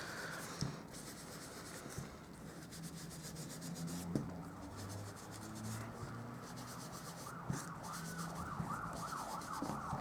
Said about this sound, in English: I live near a main road, so you can hear all sorts of trucks and all sorts of noise